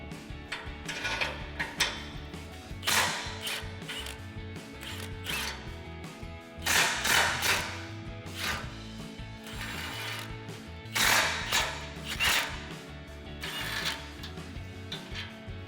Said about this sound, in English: we're gonna have to take these off using our 13mm socket